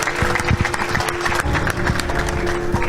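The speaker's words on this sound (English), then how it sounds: "Give him a round of applause, please." An audience applauds at a community gathering, a dense, steady patter of many hands clapping throughout, with a few louder claps standing out near the front.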